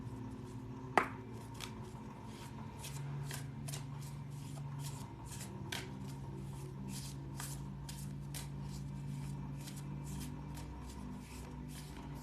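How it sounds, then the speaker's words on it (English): A tarot oracle card deck being shuffled by hand close up, a quick series of crisp riffling bursts repeating at a steady rhythm over a quiet background. "I literally just blessed my deck as y'all see me sitting here shuffling"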